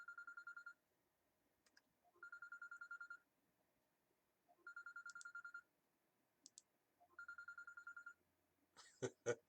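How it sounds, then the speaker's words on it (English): A phone rings during a livestream, sounding four bursts of a trilling electronic ring with pauses between them. It ends with a few clicks and a short rustle of handling. "my phone always ring when I'm doing live"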